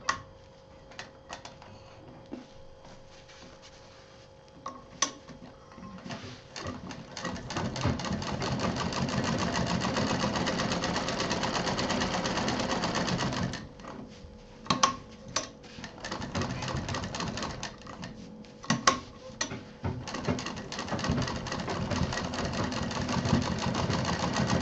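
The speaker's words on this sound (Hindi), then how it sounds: "अब इसमें हमें यहाँ किनारे मशीन चलानी है" A sewing machine runs long, steady stitching bursts along the edge of a homemade fabric baby backpack, starting with a few short taps and then whirring continuously, close and loud, with brief pauses between runs.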